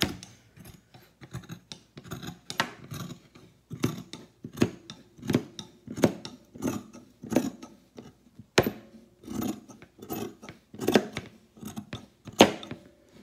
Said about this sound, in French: je vais commencer par enlever tout le bas de mon t-shirt dans le sens de la largeur